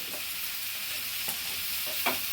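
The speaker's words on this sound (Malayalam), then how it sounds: "ഒന്നര തക്കാളി തക്കാളി കൂടി അതിനകത്തിട്ട് വഴക്കുകയാണ്" Tomatoes sautéing in a pan give a soft, steady sizzle, broken by a few spoon scrapes and stirring taps, fairly quiet and close.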